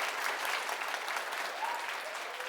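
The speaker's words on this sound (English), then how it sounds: "let's pause for an applause" An audience applauds at a corporate announcement of a new Chief Communications Officer, a dense, even wash of clapping held at a steady level throughout, with no one speaking.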